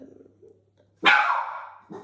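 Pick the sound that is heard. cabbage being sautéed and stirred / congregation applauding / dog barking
dog barking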